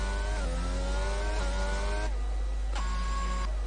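McLaren F1 race car engine in an F1 racing video game at the Chinese GP, a steady high-pitched whine with harmonic pitch that climbs through gear changes, then dips and rises again on a brief upshift.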